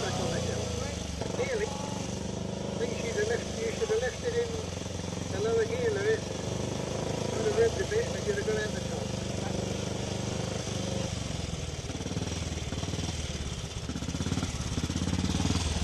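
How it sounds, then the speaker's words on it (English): A 1933 Norton 500 Inter racing motorcycle runs with a steady, rough engine drone throughout, mid-distance and continuous, under crowd noise at a Brooklands motorcycle event. "Lois Skinner rides the Norton 500 Inter from 1933"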